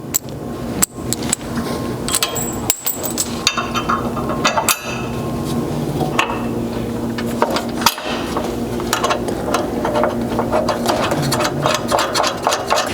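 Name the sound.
installing hex head bolts and flange nuts on 4Runner slider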